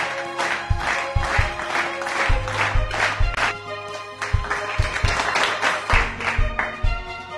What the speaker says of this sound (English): That was a half-hearted clap,